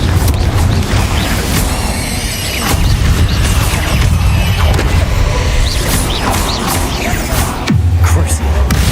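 Repeated Confringo fire-spell blasts in the game Hogwarts Legacy, with several sharp bursts and impacts over busy combat effects and a low, rumbling background, loud and close.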